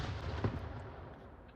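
Gunfire in the VR shooter Onward during a competitive tournament match, a few sharp reports in a quick exchange, one louder shot standing out over a low rumbling backdrop.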